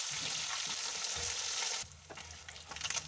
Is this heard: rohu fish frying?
yes